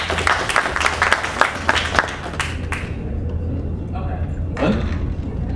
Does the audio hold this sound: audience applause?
yes